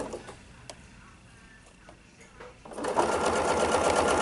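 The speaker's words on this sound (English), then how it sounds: "I am stitching backwards" A sewing machine stitches in reverse during ruler-work quilting on a table runner. At first there are only faint ticks and clicks. Near the end a loud, steady mechanical whirr of needle strokes starts up and holds close to the microphone.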